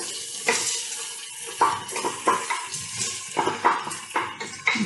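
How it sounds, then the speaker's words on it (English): Lentils and onions being stirred in a pot with a utensil, giving repeated scraping and clinking strokes against the pot in an uneven rhythm, close and moderately loud with no voices. "let's stir and make sure that it is well mixed with the onions"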